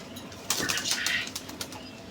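Pigeons being handled give one brief, loud burst of wing flapping that lasts under a second, with a softer flutter just after it, close by against a quiet background.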